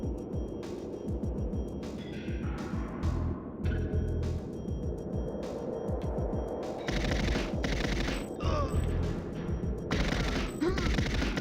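Weapon gunfire in a James Bond video game, rapid automatic bursts rattling in fast repeated volleys, loud and close, with short pauses between strings of shots and faint mechanical clatter.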